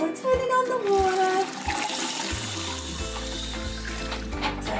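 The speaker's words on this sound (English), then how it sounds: "Turning on the water." A kitchen tap runs water in a steady, close rush as it fills for tea, while a person talks over it and light clinks sound near the start.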